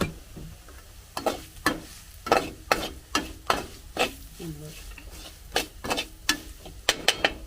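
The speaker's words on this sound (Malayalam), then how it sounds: "മുളകിൻ്റെ ഒരു പച്ചമണം പോകുന്ന വരെ നമുക്കൊന്ന് ഇളക്കി കൊടുക്കാം." A spoon scrapes and stirs goat brain fry with Kashmiri chili powder in a pan, sounding as a string of close, sharp stirring strokes over a soft, steady sizzle.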